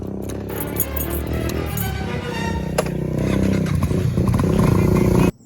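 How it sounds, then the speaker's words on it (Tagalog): Motorcycle engine started up and running close by, a steady loud rumble that builds slightly in intensity before cutting off abruptly near the end, with faint metallic clinks mixed in. "Paandar mo motor."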